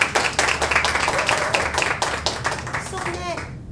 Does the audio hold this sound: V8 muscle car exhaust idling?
no